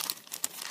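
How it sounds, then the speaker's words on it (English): Plastic cello bags for jewelry packaging crinkle while being handled, giving a brief run of soft, close rustling with small crisp peaks, no voices present. "Refillable plastic bags that I'm putting things in"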